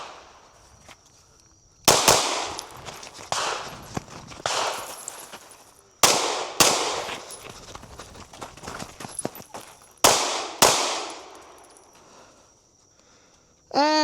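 Tisas PX-9 Duty Comp 9mm pistol fired outdoors in quick pairs, sharp loud reports with echoing tails separated by short pauses.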